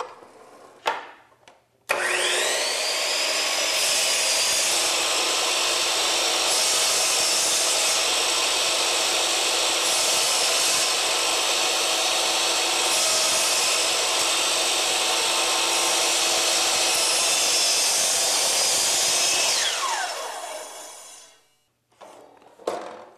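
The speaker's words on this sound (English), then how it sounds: "You'll notice I waited for the saw blade to stop moving before I pulled it up out of the material." A miter saw cuts through wood molding, spinning up fast into a loud, sustained high whine that holds for about eighteen seconds before winding down, with brief clicks and knocks at the start and end.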